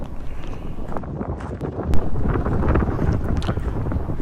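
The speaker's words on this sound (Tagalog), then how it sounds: "Grabe, ang lakas ng hangin." Strong wind sweeps through a hot, dusty recreation park in Las Vegas, roaring against the microphone in a loud, continuous rumble with a sharper gust near the middle.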